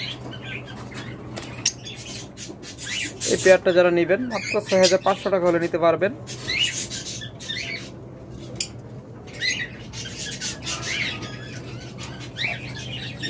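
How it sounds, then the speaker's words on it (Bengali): A pair of pure white, red-eyed pet birds gives a close burst of repeated squawking calls, then scattered chirps, while someone talks over them. "বাস্তবে একদম দবদবে সাদা লাল চোখের পাখি"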